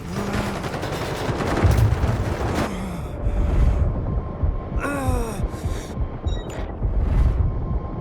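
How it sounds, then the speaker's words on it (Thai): A Delta Force video game explosion bursts loudly in the middle of a noisy firefight, with booming impacts and scattered gunfire around it, followed by lighter pings and distant shots. "ระเบิด"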